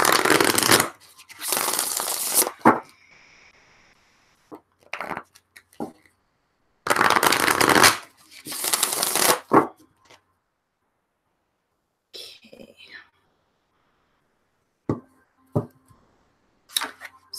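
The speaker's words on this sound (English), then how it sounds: "Just give me a second as I'm shuffling the cards." Oracle cards are riffled twice in crisp, rapid bursts, separated by quiet pauses with scattered small clicks and taps of cards being handled.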